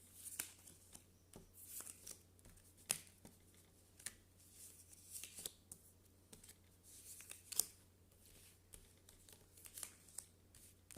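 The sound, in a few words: tarot cards being cut and drawn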